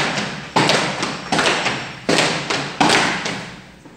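A group stomps a rhythm with their feet at a music training session in Bogotá, Colombia: loud, close thuds land in a steady pattern, some doubled, each decaying into room echo.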